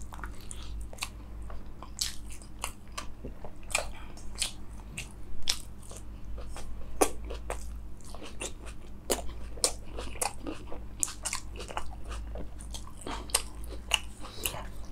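Someone eats rumali roti with spicy mutton curry right at the mic, with repeated crisp bites, wet chewing and crunches in an irregular, steady stream and no talking.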